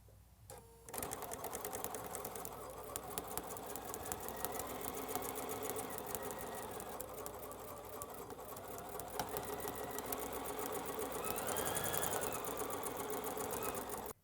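A sewing machine runs steadily, stitching a full quarter-inch seam through quilting fabric in one continuous, even whir that lasts well over ten seconds, close up and with no talking.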